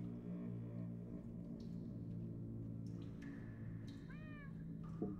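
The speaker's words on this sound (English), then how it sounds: "Cats? I hear cats." Cats meowing in the disc menu of Minecraft Story Mode, a few short high mews over a steady droning menu background.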